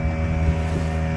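A single-engine fishing boat motor runs steadily and loud, with a constant low throbbing hum and some wind noise across the microphone, no voices.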